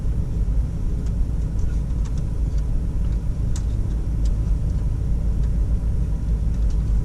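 A 2003 Chevrolet Suburban engine idles with a steady, loud low rumble, close by and alone, with faint ticking over the drone.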